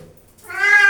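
A cat being bathed lets out a single loud, drawn-out meow after a moment of near quiet, close and strained, with no talking.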